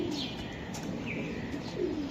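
A light-coloured racing pigeon coos faintly and low over a steady background hiss, with a few soft chirps around it.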